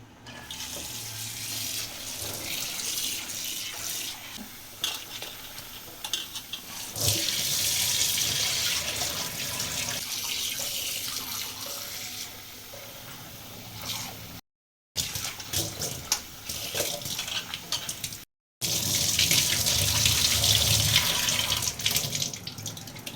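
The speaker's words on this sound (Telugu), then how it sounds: "ఇప్పుడు ఈ బ్లడ్ని అయితే నీట్గా వాష్ చేసేసుకుందాం" Tap water runs into a bowl to rinse raw sheep blood, giving a steady, fairly loud gush that swells louder at times and stops briefly twice.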